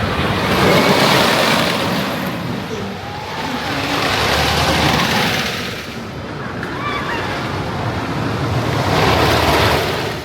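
A ride on Woodland Run, an older wooden roller coaster at Kentucky Kingdom: loud rushing wind and rumbling track roar that swell and fade in waves, with riders' voices mixed into the noise.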